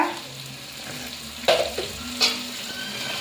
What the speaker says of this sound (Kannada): ಈಗ ಅದಕ್ಕೆ ಬೀನ್ಸು ಮತ್ತು ಕ್ಯಾರೆಟ್ ಹಾಕೋಣ.